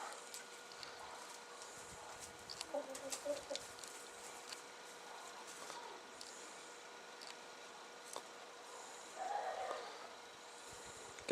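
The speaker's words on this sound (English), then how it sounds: "And our rooster." A farm rooster gives a few soft, quiet clucks in two short bursts, faint against a low, steady outdoor background.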